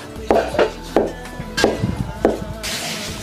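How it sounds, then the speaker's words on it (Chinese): A cleaver chops dumpling filling on a board in about six firm, close, evenly spaced thuds, followed by a brief rustle at the end. "把劲儿这一剁"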